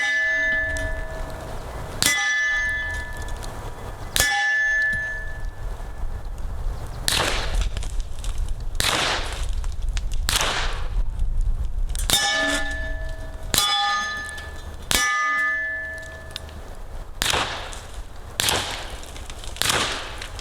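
Suppressed .300 Blackout fire sends 220 grain slugs into a steel target, producing a string of sharp metallic clangs with ringing tones, each paired with a muffled shot, in an irregular series over twenty seconds outdoors.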